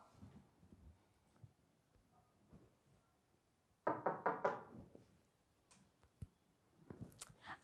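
Knocks on a door come as a quick, loud cluster of about five raps in a quiet indoor room, followed by a few softer taps and movement.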